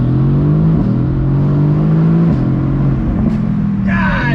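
Mercedes-AMG GT C convertible with the top down, accelerating hard in first gear: a loud, close engine note rising steadily in pitch, with a brief dip at each gear shift.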